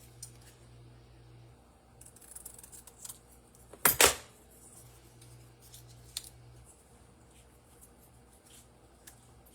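Scissors cut paper quilt design pieces with a quick close snipping burst near the middle, surrounded by faint handling rustles in a quiet room.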